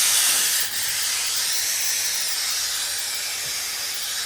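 A hat steamer hisses a continuous jet of steam onto a hat crown in a crank hat press workshop, loud and close, with a brief break in the spray early on.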